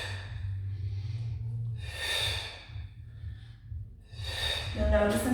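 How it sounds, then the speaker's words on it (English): A woman exhales during a squat in a pregnancy exercise class in a gym studio, two soft, breathy rushes of air close to the microphone over a low steady hum. "exhale."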